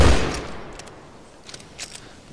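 Rapid-fire revolver shots in GTA 5 Online, a loud close burst of gunfire at the start that fades quickly into faint, scattered echoes.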